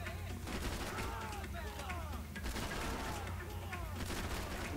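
Sustained gunfire in the action shooter Max Payne 3, steady volleys of shots under constant game noise, with someone talking over the fighting.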